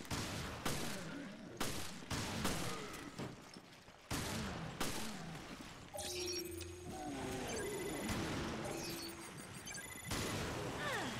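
Rapid gunfire in Resident Evil: Revelations blasts at a creature in repeated loud bursts, some crashing impacts, and stretches of electronic tones in the middle, all close and with no voices.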